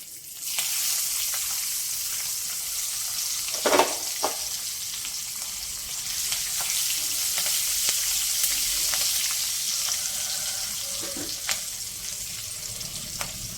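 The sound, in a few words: frying sliced garlic and green chillies in oil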